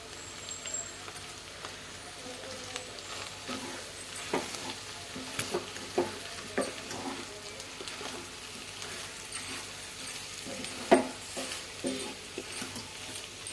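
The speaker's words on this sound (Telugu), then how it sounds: "ఇప్పుడు కరివేపాకు వేస్తున్నాం" Curry leaves hit hot oil with bitter gourd frying in a pan, giving a steady low sizzle under repeated scraping stir strokes and small crackling pops, with no talk.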